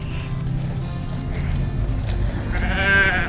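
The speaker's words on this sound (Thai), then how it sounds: "ตอนนี้เราให้อาหารแกะ" Sheep being fed on a farm in Suan Phueng, Thailand; a close, loud bleat rises near the end over a constant low rumble and shuffling of the flock.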